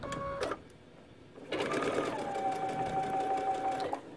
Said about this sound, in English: So let's sew that down real quick.